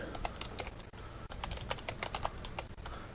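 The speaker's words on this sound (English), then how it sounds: "we can just type log." Quick, light clicks from a computer keyboard in a quiet room, with irregular bursts of keystrokes that pause briefly and then resume, close and fairly soft.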